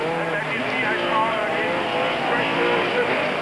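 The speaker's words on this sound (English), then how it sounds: "A great start and already a gap for Coetzee in the dealer team Toyota Hilux" Race trucks, a dealer-team Toyota Hilux and Ford Courier pickups, launch at the start of a 1997 Super Series race, a dense steady roar of several engines with a commentator talking over it.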